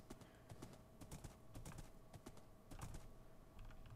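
Horse hooves clip-clop at a steady trot in Minecraft, a close, rhythmic run of sharp knocks over a low background with no talking.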